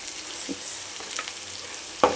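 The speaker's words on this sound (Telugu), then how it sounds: "వేసుకొని బాగా కలపాలి." Spices being stirred into a frying masala pan for Telugu-style fish curry (chepala pulusu), a soft steady sizzle with a few scraping stirs and a sharper clatter at the end, no talk.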